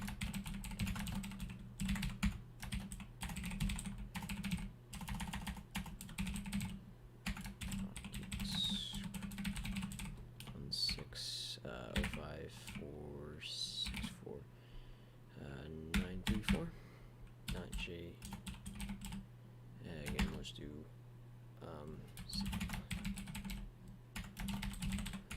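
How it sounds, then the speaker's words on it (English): Typing on a computer keyboard: quiet, irregular key clicks come in quick runs and pauses over a steady low hum, with occasional talking in between. "I'm just going to type this out manually again."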